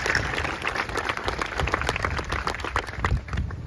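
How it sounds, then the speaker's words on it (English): Applause from a high school graduation audience after a class president's speech, a close, uneven patter of individual claps with distinct hand strikes standing out over a softer crowd wash. "Let's give a round of applause to all of those that helped us to be here today"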